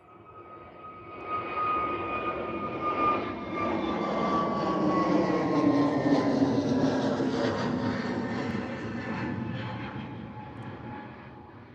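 An easyJet A320neo jet takes off at Liverpool airport, its engine roar swelling from a distant whine into a loud, sustained rush that peaks midway and slowly fades as the aircraft climbs away.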